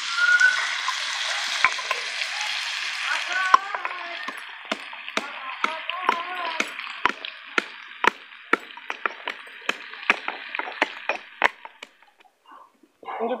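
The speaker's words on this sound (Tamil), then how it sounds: "வாங்க இஞ்சி பூண்டு இடிச்சுக்கலாம்." Ginger and garlic crushed in a kitchen, heard as a steady run of sharp, close pounding knocks over a sizzling background that fades out near the end.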